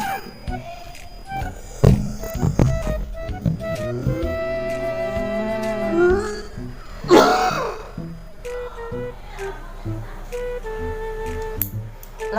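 Someone fakes a coughing fit as a prank, with harsh throat-clearing coughs bursting out in short, loud clusters near the start and again in the middle, amid other close noises.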